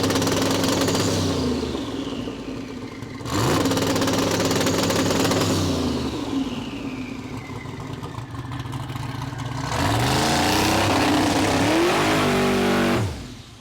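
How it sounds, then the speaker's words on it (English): A supercharged Chevrolet Silverado truck roars through burnouts, its engine revving hard in loud repeated surges while the tires spin and squeal, with no talk over the roar. "I pretty much roasted the tires in one spot from like one little trans brake"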